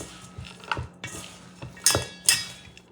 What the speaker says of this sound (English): you're going to mix everything well together